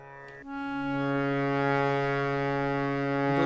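A harmonium sounds a steady sustained note Sa, a rich reedy drone that starts sharply and holds loud and even for a few seconds.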